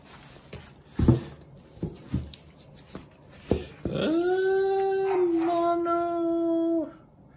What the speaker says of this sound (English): Oh, that wasn't my dog. That was the neighbor's dog.